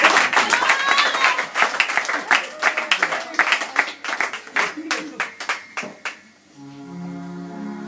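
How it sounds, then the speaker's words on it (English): Church congregation clapping for Jesus during a prophetic service, bursts of hand claps with voices and music under them, fading out near the end as a sustained tone takes over. "Clap for Jesus."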